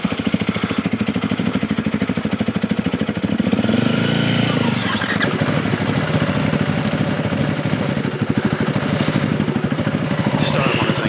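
A Honda CRF300L or 2025 KTM 390 Enduro R dirt bike cranks over and fires up, settling into a loud, close, steady thumping idle, with people talking nearby.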